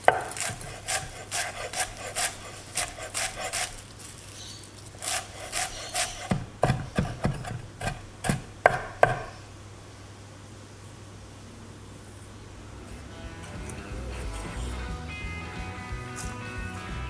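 Knife chopping fresh parsley for a homemade hamburger mixture, heard as a quick run of sharp, close blade taps on a wooden board with short pauses between bursts, followed by quieter rustling and handling noise.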